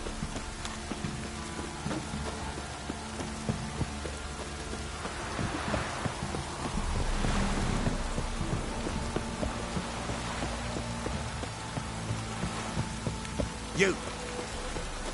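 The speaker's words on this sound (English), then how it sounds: "If it don't stop raining, my arse will rock off." Steady rain pours throughout a scene in The Witcher 3, a dense, even hiss with scattered drop ticks and a brief swell midway, carrying on without pause to the end.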